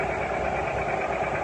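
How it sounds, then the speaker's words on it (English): A classic John Deere tractor rolling by in a parade, its engine giving a steady, close, throbbing rumble with no break throughout. "Here comes another classic John Deere tractor through here."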